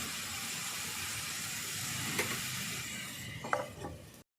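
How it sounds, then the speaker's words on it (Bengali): Kohlrabi with prawns and coconut being stirred in a pan, with a steady close sizzle of frying and a few scraping stirs of the spoon near the end. "আবার আমি ঢাকনা তুলে দিয়েছি দেখো আমি নাড়িয়ে দিচ্ছি ভালো করে"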